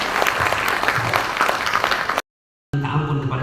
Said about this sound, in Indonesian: Terus sekali lagi tepuk tangan buat beliau.